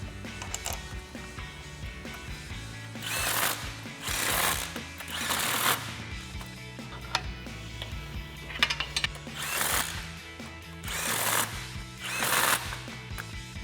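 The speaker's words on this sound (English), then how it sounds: "we'll grab our impact with our 15mm socket and tighten these all down" An impact wrench with a 15mm socket drives the lower control arm bolts on a 2007-2015 Silverado 1500 front axle in several rattling bursts. Quiet clinks and shop noise fill the gaps between them.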